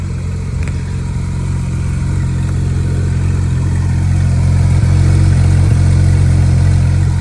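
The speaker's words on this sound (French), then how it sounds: "Le flat 6 est chanteur ce matin" A Porsche GT3 RS flat-six runs steadily at a car-spotting gathering in Gérardmer, a loud, continuous low mechanical drone that swells slightly toward the end, with no voices over it.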